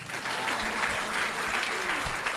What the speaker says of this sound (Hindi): एक बार इन जुगल जोड़ी के लिए ताली बजाओ।